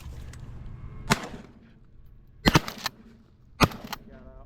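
Three sharp, loud shotgun blasts during a pigeon hunt, spaced over a few seconds, the last two closer together, with faint background noise between them.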